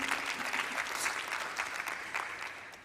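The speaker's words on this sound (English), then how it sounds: "round of applause for everyone." A crowd claps steadily throughout at a panel event on the LGBTQIA+ disability community. The applause is soft and somewhat distant, a continuous wash of many hands with no talking.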